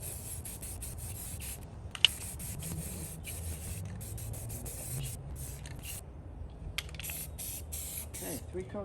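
An aerosol spray can lays a coat of paint on an 88-year-old rusted Robbins and Meyers Type 1204 industrial fan, giving quiet hissing bursts broken by brief pauses, with faint handling noises in between.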